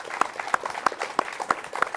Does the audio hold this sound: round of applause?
yes